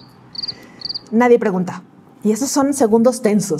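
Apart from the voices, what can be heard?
crickets chirping sound effect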